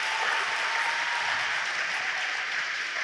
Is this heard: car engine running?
no